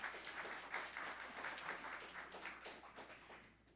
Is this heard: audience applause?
yes